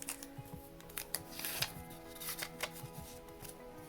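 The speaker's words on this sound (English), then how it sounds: "I'm going to fold mine in half twice." A paper note folded in half twice during a craft, giving close, quiet crinkles and soft creases in short bursts against a faint background hum.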